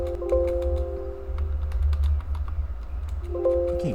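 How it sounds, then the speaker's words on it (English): Close-up typing on a computer keyboard, a quick run of light key clicks under a low hum, with no one speaking. "I keep typing the wrong letters."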